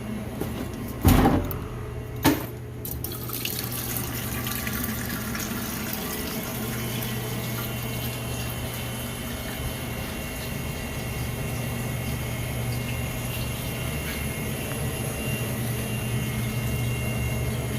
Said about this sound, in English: So let me just go to a sink and run the hot water.